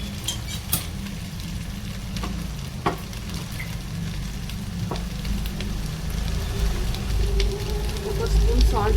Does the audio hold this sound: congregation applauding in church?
no